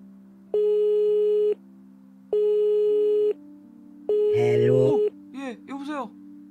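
A telephone busy signal in the puzzle game Cube Escape: Case 23 repeats three times as long, even tones with short gaps, and a voice speaks over the last tone and just after it.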